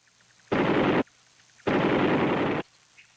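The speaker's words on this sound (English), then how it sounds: "the most valued weapon of all was the M60 machine gun" An M60 machine gun fires two long, loud sustained bursts, the second longer than the first, separated by a brief quiet gap.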